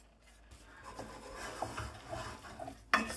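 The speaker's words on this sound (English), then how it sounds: "Mix that well." A spoon stirs jaggery into soft cooked rice pudding in a pot over low heat, making soft rubbing and scraping strokes close by, ending with a sharper clink against the pot, with no voices.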